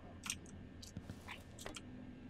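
Crunchy Cheetos being chewed close to the mic, a few quick crisp crunches and bites over faint background noise.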